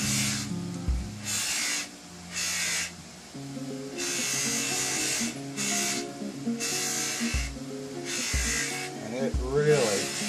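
An electric buffer polishes a grungy surface with a light abrasive wax-based compound, its whirring hiss rising and falling in repeated bursts beneath a voice.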